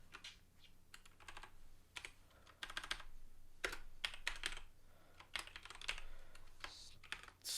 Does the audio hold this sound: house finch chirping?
no